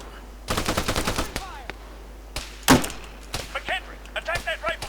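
Rapid bursts of rifle and machine-gun fire in the military shooter ArmA 3, a quick rattling volley followed by single sharp shots, close and loud, with shouted battlefield commands between the shots.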